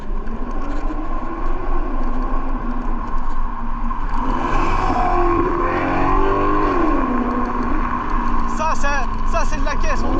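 A Maserati car accelerates nearby, its engine droning loudly and rising and falling in pitch as it revs, while people talk excitedly over it.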